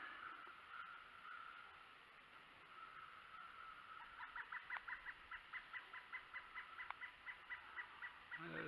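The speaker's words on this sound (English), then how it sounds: "There's some kind of bird hollering." A turkey gobbling out in a field, faint and distant, first a drawn-out call and then a fast, even series of pulsing gobbles through the second half.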